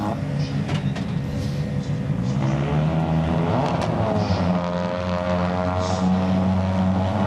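Rallycross race cars launch off the start line in qualifying at the 2019 FIA World Rallycross of Canada, a dense, loud engine roar whose pitch climbs steadily as the pack accelerates away.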